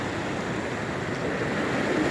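Calm sea waves wash steadily onto Mehdia beach near Kenitra, a continuous soft roar of surf with light wind noise on the microphone, constant and fairly close throughout.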